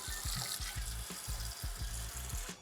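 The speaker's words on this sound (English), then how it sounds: "And now I'm just gonna fill this with water." Water runs from a tap into a pot for a ham bone and rice noodle soup, a steady rushing splash with a rhythmic gurgling pulse as the pot fills, close and alone with no talk.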